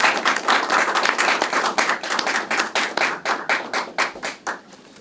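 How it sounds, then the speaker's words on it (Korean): Applause from an audience at the 2020 Korean baduk (Go) awards ceremony, a dense burst of clapping with distinct sharp claps that thins and tapers over about five seconds. "여러분들 한 번 더 큰 박수 주시면 감겠습니다"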